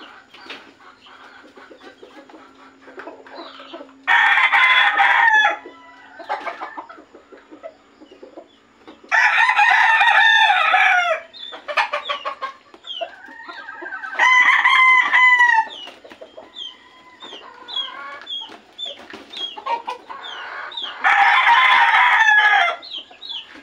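A young rooster crows loudly and close, with four strong drawn-out calls at roughly even intervals, separated by quieter clucks and short chirps from nearby fowl.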